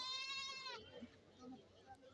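A goat bleats with a loud, wavering cry at a busy Kerala goat market where dairy goats are for sale, then the call breaks off and leaves a murmur of crowd and market noise.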